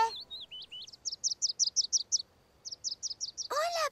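Cartoon mother bird chirping in quick repeated bursts of high tweets, a few slurred notes then two rapid runs of about eight chirps each, ending with a short voiced sound.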